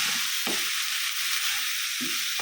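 Cauliflower thoran sizzling steadily in a pan, with a hiss that carries through the whole stretch and a few soft scraping stirs standing out over it, close and even.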